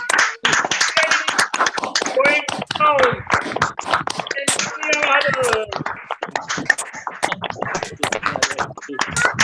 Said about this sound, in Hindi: तो हम सभी लोग जोरदार तालियों से, बिल्कुल दिल से, और बिल्कुल तालियां आवाज आना चाहिए आप लोगों की